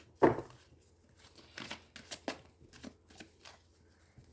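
A deck of oracle cards is shuffled by hand for a weekly card reading, with a loud first riffle followed by a series of softer, irregular slaps and rustles close by.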